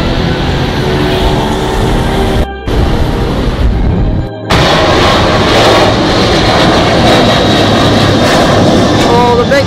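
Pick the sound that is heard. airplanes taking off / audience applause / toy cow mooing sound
airplanes taking off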